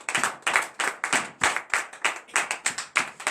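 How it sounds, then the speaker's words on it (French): A church congregation claps in acclamation during a Thursday morning prayer service in Benin, giving a steady run of about a dozen sharp, evenly spaced claps in unison, close and clear with no talking. "Donnez l'acclamation à l'Éternel."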